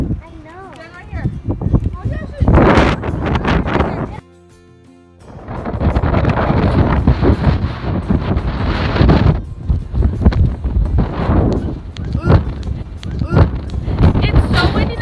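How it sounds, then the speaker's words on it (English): Strong wind at Hoover Dam in Nevada buffets the microphone in loud, roaring gusts that nearly drown out people talking nearby, easing briefly before surging again. "So windy!"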